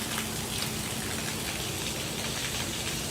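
Steady rain falls across an open pasture, a dense continuous hiss of drops, loud and even throughout with no voices.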